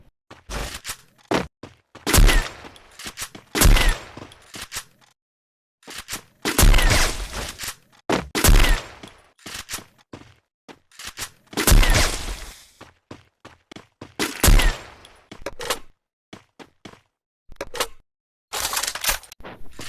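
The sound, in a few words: sniper rifle firing repeatedly in a video game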